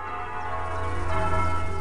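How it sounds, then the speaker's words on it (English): Church bells ring steadily in the village of West Huntspill, a sustained wash of overlapping tones heard from outside at moderate distance, with no talking. "I just wanted to capture the bells again."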